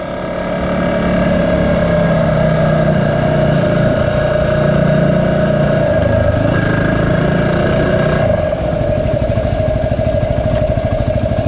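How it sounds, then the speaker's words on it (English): A big truck engine drones steadily on a foggy day, a loud, continuous low hum with a sustained tonal whine that shifts slightly as it passes close by. "Big ass truck."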